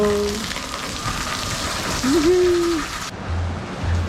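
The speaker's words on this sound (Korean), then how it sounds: "비가 너무 많이 와서 천장이 뚫렸어." Heavy rain pours in a dense, steady hiss, with water coming through a leaking ceiling indoors and a brief faint voice-like tone in the middle.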